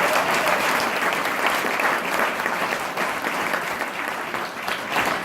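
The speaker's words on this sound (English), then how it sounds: "Everybody give him a round of applause." Sustained audience applause fills a room at a Democratic candidates forum in Niles, Michigan, a dense, steady wash of clapping from many hands that holds at an even level throughout without any voices breaking through.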